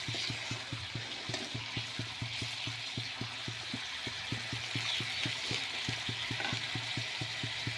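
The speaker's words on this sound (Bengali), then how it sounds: "তো এখন মশলাটাকে আমি ভালো করে কষে নেব।" Spice paste for a village-style desi chicken curry fries in a pan. A steady sizzle sits under a regular series of scraping stirs, close and continuous, with no one talking.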